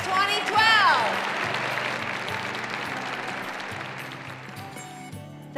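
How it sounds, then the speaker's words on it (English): An audience at a Top Companies for Executive Women celebration cheers and applauds, starting with a burst of whoops and whistles, then settling into sustained, even clapping. "Let me hear a big cheer."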